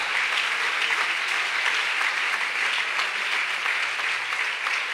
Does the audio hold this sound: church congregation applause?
yes